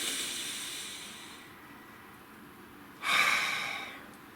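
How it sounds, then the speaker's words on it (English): A deep breath drawn in and let out, soft airy hissing fading over a second or so, then a brighter, louder exhale rush after a pause, close and alone with no speech. "deep breath"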